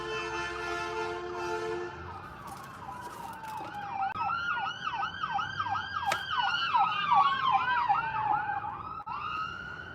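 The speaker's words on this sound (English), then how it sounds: "That was an ambulance." Ambulance siren passing, starting with a steady tone and then switching to a fast rising-and-falling wail that grows loud and close, then recedes and drops in pitch.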